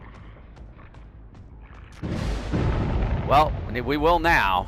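A hex totem breaks in Dead by Daylight, a loud crashing burst of noise erupting partway through, followed by talking over the lingering rumble.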